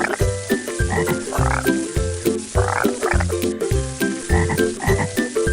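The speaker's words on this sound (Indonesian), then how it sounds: "Saat musim hujan, kodok suka sekali bernyanyi." Frogs croak loudly in a fast, repeating rhythm of rough pulsing calls, close by and continuous, with no voices.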